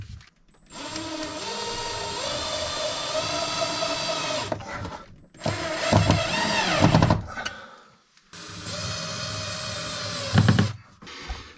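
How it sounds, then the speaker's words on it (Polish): A power screwdriver drives screws through metal mounting plates for basement lighting, heard as three separate whirring bursts of motor whine with short pauses between them, close and loud. "teraz je przykręcę, tak jak wcześniej mówiłem, na wkręty"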